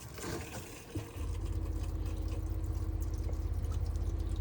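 Water flowing from the hot-side tap of a Chausson Flash 03 motorhome, a steady continuous rush after a brief start, with a low pump-like drone underneath; close and even, with no sputtering.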